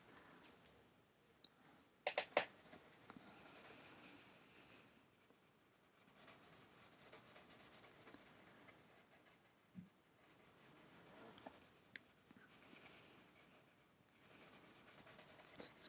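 Pencil coloring in a cartoon drawing of Kid Buu, a steady close scratchy shading texture that runs nearly throughout with brief pauses and no talk.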